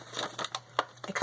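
A paper frame shape being punched out with a craft punch for a junk journal cabinet card: a few quiet crunching, scraping clicks in quick succession, close and faint.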